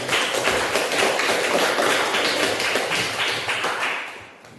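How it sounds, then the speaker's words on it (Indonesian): Students in a classroom applaud at the end of a lesson, a dense burst of many hands clapping that holds steady, then fades out, with no talk. "Tepuk tangan untuk kita semuanya."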